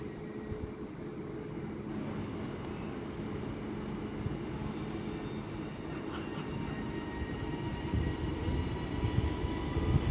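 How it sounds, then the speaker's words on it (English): Northern electric train 331003 pulling out of Doncaster station on the East Coast Main Line, a steady low rumble of motors and wheels building gradually, heard from the platform with no talking. "now departing is 331003 with the 1125 northern service to Leeds"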